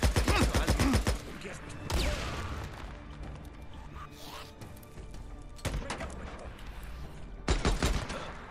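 Bursts of rapid gunfire in Days Gone crack out at the start and again near the end, with quieter rumbling and scattered impacts in between.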